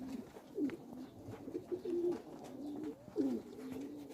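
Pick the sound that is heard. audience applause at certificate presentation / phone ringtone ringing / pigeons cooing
pigeons cooing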